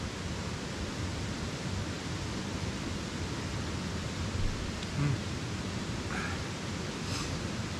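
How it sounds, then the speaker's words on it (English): Rapid mountain brook on the Colorado Trail rushing steadily nearby, a dense, even broadband whoosh of flowing water with no pauses or voices. "I can hear like a rapid brook behind me"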